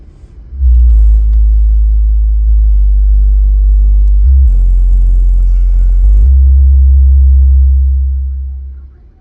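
Very loud, deep bass booms from six 12-inch car subwoofers. It swells suddenly into a sustained rumble with a brief dip and a slight rattle, then fades out at the end.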